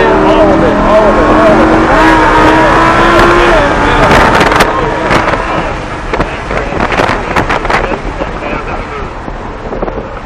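A Lamborghini Huracan LP610-4 on the track at Summit Point Motorsports Park, its engine note rising as it accelerates, loud and heavily buffeted by wind noise, with a voice speaking over it.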